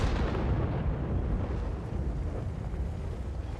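A tank cannon shot in World of Tanks, a heavy booming blast with a long rumbling tail that fills the whole stretch, loud and close with no voices.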